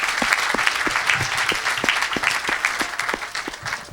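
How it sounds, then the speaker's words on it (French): A church crowd applauds for Jesus Christ during an evangelistic preaching service, loud, close clapping from many hands that keeps up evenly throughout. "Acclamez pour Jésus-Christ."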